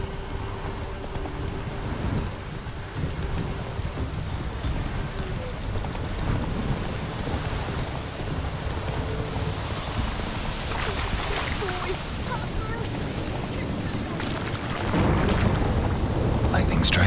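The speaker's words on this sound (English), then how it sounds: "Lightning strike." A lightning strike and rolling thunder break over a steady rainstorm in The Witcher 3, the heavy downpour hissing throughout and a loud crack of thunder swelling near the end.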